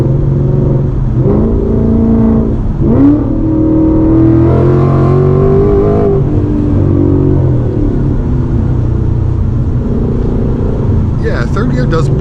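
Car on a 93 octane to E30 tune accelerating hard in third gear during a traction test, a steady engine drone with rising revs and whirring under a speaking voice heard from inside the cabin.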